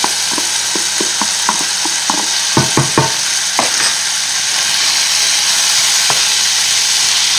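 Carrots and lardons sizzle steadily in a pan for sausages with lentils, with a series of sharp scraping and stirring clicks early on over the constant frying hiss.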